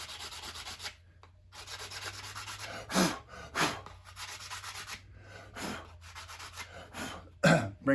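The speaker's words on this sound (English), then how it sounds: "Take a piece of 2x4, strap a piece of sandpaper to it." A block of 2x4 wrapped in sandpaper rubs back and forth over a boat window frame, giving soft, uneven scratchy strokes with a few louder swipes; close and fairly quiet, with no talking.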